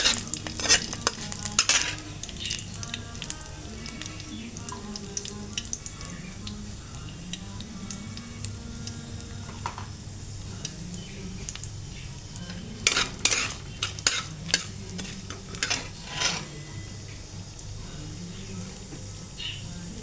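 Ingredients for a raw banana curry fry in a pan while a spoon stirs and scrapes, with metallic clinks and clusters of knocks against the cookware over a low sizzle, plus faint talk.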